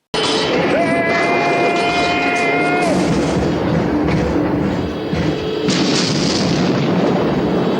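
Loud, continuous booming and blasts of explosions with rumbling bursts from the TV show Tugs, a rising tone briefly mixed in, and faint voices underneath.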